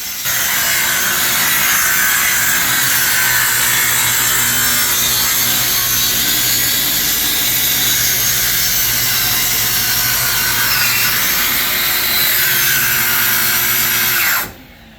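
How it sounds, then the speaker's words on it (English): A loud, steady power saw grinds through a custom guitar top's wood for about fifteen seconds without pause, then cuts out abruptly near the end when a breaker trips. "That's a lot of wood going through there, Tom."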